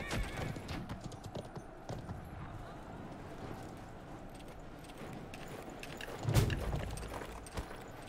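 Horse hooves clip-clopping in the medieval battle video game Conqueror's Blade, a faint running patter with a whinny, heard under game noise and a sharp burst of combat sound.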